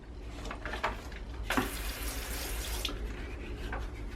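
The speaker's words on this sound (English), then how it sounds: "a bit of water on top" Water poured from a can over freshly sown broad bean pots in a greenhouse, a splashing gush that surges midway for over a second, with softer trickles before and after.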